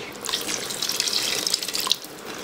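Water pours from a tap into a cooking pot over pineapple juice and meat before pressure cooking, a steady splashing, gurgling stream close by with a brief louder splash near the end.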